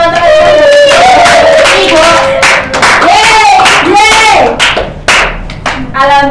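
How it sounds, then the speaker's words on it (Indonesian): Classroom of primary pupils giving their classmates a round of applause, with loud, steady clapping and cheering children's voices layered over it throughout, close and busy. "Sekarang kita kasih tepuk tangan buat teman-teman."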